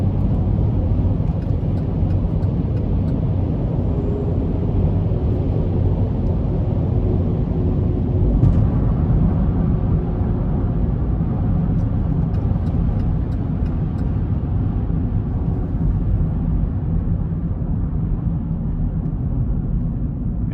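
Cabin ride noise inside a 2017 Buick Enclave with about 80,000 miles on it, a steady low road and engine rumble that stays even and fairly loud throughout, with no talking.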